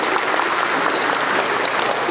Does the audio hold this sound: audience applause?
yes